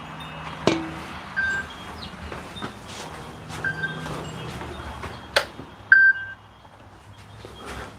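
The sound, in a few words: oven timer alarm beeping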